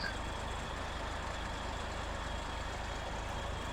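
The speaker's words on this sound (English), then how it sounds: "so I can drive the truck." Heavy truck engine driving in SnowRunner's Yukon region, a steady low rumbling drone with constant broadband noise and no breaks, moderately loud throughout.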